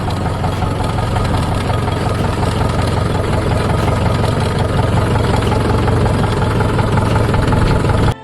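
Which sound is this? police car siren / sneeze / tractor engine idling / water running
tractor engine idling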